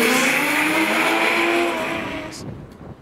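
A drift car at Pukekohe Park Raceway during D1NZ drift series qualifying: a loud, close engine roar holds steady under hard throttle, then fades away toward the end.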